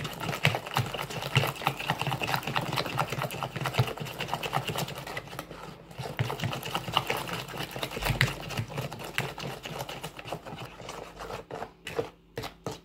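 An electric mixer whirs steadily while stirring eggs, sugar and oil into cake batter, a close, continuous buzzing motor hum that runs loud and then tapers off into a few scattered knocks near the end.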